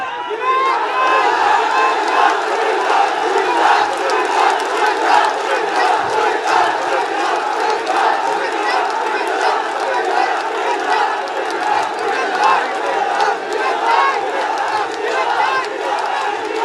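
A large crowd at a political rally shouts and chants slogans together, a dense, loud roar of many voices sustained without letup throughout.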